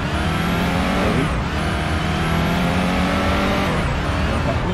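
A police patrol car engine in the Police Simulator video game accelerates with a steady, loud, heavy roar that rises in pitch over a few seconds, dense and continuous with faint whining tones above.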